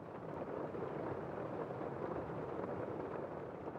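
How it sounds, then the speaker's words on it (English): Gentle rain in a calm sleep-meditation setting, a soft, even wash of steady patter with no distinct drops, quiet and unbroken from start to finish. "The gentle sound of the rain only adds to your comfort."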